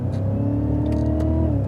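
A Cadillac CTS-V pulls hard out of a hairpin on a race track, its engine note rising in a loud, steady drone with a gear change partway through.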